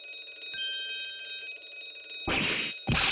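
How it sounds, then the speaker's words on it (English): A bell rung in a video game comes in as two loud, bright bursts near the end. The first rings out and then a second follows after a short pause. Before them, quieter game tones and a steady background hum play. "I'm gonna sound the bell."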